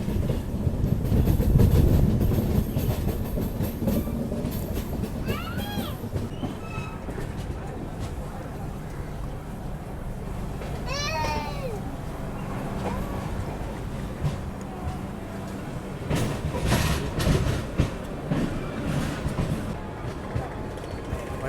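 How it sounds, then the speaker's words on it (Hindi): Passenger express train rolling on rails through a crowded Indian railway station, a steady low rumble and rattle running throughout with a few squeals, while voices and station crowd chatter mix in over the noise. "शायद से कोई तो ट्रेन हमारे साथ साथ आ रही है।"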